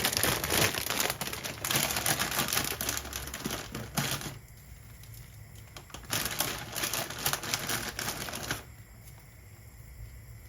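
Plastic packaging of a butter pack crinkles and rustles up close while being torn open in a kitchen, in two busy bursts separated by a quieter pause, with no talking.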